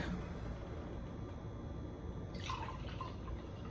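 Fresh homemade watermelon juice pours briefly into a glass, a soft splashing trickle that starts late and fades, against faint background hiss.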